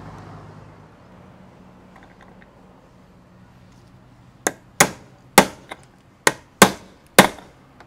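Six sharp metallic hammer strikes ring out in a steady, evenly spaced sequence after a few seconds of quiet room noise, as a car's taillight is worked on.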